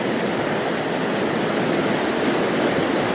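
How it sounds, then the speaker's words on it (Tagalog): Surf rolls and crashes steadily against a rocky fishing shore at Casiguran, Aurora, in the Philippines, a loud, continuous wash of broadband water noise with no talk. "Pero pag pumesto dito, hampasin ka rin ng alon."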